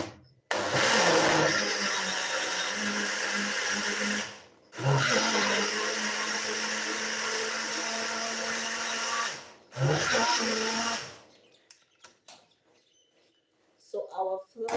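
A kitchen blender grinds oats into flour in three loud continuous bursts, with brief pauses between runs, then the motor cuts out and the clip ends in near quiet.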